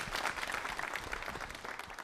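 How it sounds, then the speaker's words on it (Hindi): Quiz show audience applauding a contestant, a dense steady wash of many hands clapping at close range with no talk over it. "बहुत तालियां जोरों से बजाइए सब आपके लिए।"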